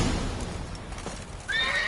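Roach, a horse in the video game The Witcher 3, lets out a loud, close whinny near the end, rising sharply over a soft bed of game ambience and a dull thud.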